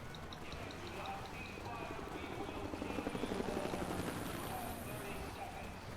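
A helicopter in the Rise of the Tomb Raider video game thrums continuously with a rhythmic rotor beat, steady and fairly close, swelling slightly midway beneath game sounds and speech.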